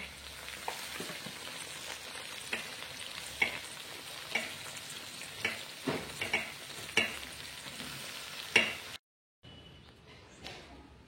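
Sliced bitter gourd frying in a pan, a soft continuous sizzle broken by repeated spoon clinks and scrapes, then a short cut to quieter sizzling.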